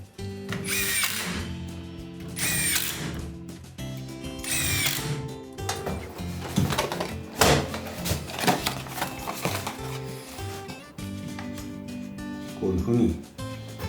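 A power drill drives screws into wall framing while a Japanese-style room is renovated into a Western-style room, whirring in several short close bursts, with someone talking over and between them.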